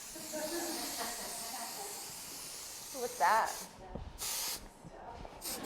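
An aerosol can sprays in a hairdressing session, giving a steady, close hiss for about three seconds. A voice then speaks briefly, followed by a couple of short spray bursts.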